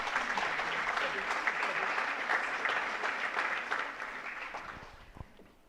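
Audience applause at an evening event in Auvergne, steady dense clapping from a seated crowd that holds for several seconds and then fades out toward the end.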